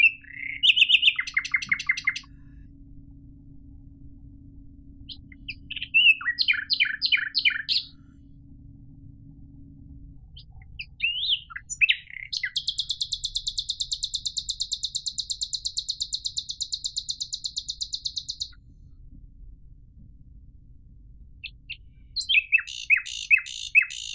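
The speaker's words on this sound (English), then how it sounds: "The call of the nightingale that composers have aimed to represent in their music is this one" A nightingale sings in bursts separated by pauses: rapid repeated-pitch trills, a long sustained buzzing trill in the middle and further chirpy phrases, loud and close over a low background hum.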